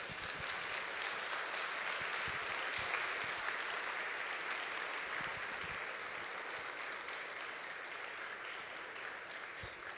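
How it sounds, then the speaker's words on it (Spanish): A church audience applauds during a sermon, a dense, continuous wash of clapping that holds steady for the whole stretch. "¿Le puedes dar un aplauso al Señor?"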